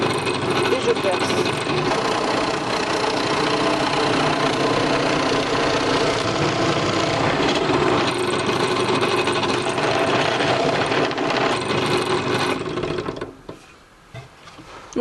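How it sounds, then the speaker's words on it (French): A drill boring a hole in a wooden batten makes a loud steady whirring drone lasting about thirteen seconds, then spins down to near quiet. "j'ai percé mon trou sur mon tasseau"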